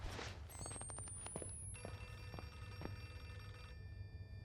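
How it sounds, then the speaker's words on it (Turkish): A telephone rings inside the horror video game Outlast 2, its repeated bell tones sounding at a moderate distance alongside a few footsteps and faint ambient game noise, with no talking. "Sağda telefon."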